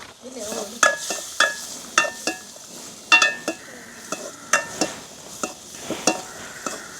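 Cashews frying in butter in a pan, with a soft sizzle under repeated sharp clinks and scrapes of a spoon stirring against the pan, close and irregular.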